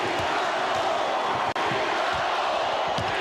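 A packed arena crowd of 19,000 at a 1993 Suns–SuperSonics playoff Game 7 roars steadily, with a rhythmic chant pulsing through the dense, continuous noise.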